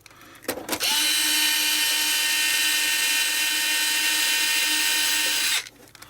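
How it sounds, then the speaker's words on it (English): Electric screwdriver whirring steadily for about five seconds while backing screws out of a PlayStation 3 Slim console during repair, a loud continuous high motor whine that starts abruptly and cuts off, with no talking. "Try my screwdriver."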